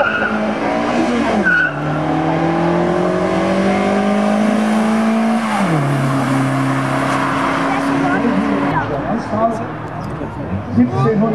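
A 1980 Audi race car with a 1700 cc engine drives past at a classic motorsport event, its engine note sweeping up and down through gear changes with some tire noise, loud and steady throughout, under a commentator's voice.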